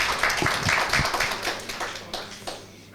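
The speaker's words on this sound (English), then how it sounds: "So again, an applause for Melike." An audience at a research collaboration pitch session claps for a speaker, with scattered distinct hand claps early that thin out and fade toward the end.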